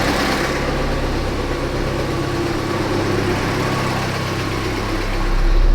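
A Saab 90 engine idles steadily at around a thousand rpm after a carburettor rebuild, a loud, close, even drone with a slight rise in revs near the end.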